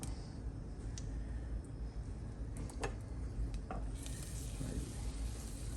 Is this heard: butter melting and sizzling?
yes